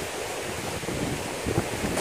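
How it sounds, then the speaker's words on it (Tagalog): Strong waves and current on a river in Nakar, Quezon rush in a steady broadband roar, mixed with wind buffeting the microphone, with no voices. "lakas ng alon"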